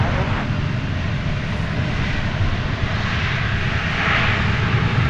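A passenger airliner's engines roar steadily at DFW airport, a loud, continuous broadband rumble that swells slightly toward the end, with no speech.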